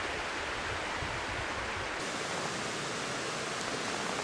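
River flowing beside a backpacking campsite on the San Gabriel East Fork, a constant loud broadband rush of water that fills the whole scene, with deeper turbulent churning during the first two seconds.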